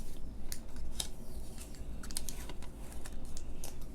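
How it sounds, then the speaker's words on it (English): Tape peeled by hand off a homemade heart stencil on a paper card, giving a string of short, crackly rips and ticks close to the listener, fairly quiet, with no talking. "Let's get that tape off."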